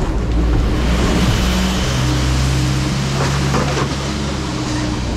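A refuse collection lorry's engine pulling under heavy throttle, a steady loud low drone with a fan-like whir running through it for several seconds, with no talk.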